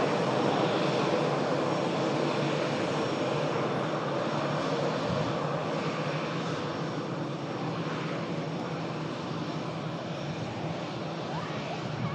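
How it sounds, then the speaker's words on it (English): Ryanair airliner coming in to land on a flight from Tirana, a steady loud engine roar and rushing wind that stays constant throughout. "Down is the Ryanair. Flight coming in from Tirana."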